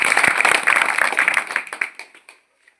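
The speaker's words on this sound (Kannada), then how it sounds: "ಚಪ್ಪಾಳೆ." Brisk applause from a crowd at a farmers' association gathering, fairly close and lively, thinning into scattered last claps and fading to silence after about two seconds.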